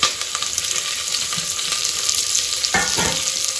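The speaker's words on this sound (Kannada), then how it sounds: "ಸಾಸಿವೆ ಸಿಡಿಲಿ ಒಂಚೂರು, ಒಂಚೂರು ಜೀರಿಗೆ ಹಾಕೋಣ" Mustard seeds and cumin spluttering and crackling in hot oil, a dense continuous sizzle close up with sharp pops and a brief stirring scrape near the end.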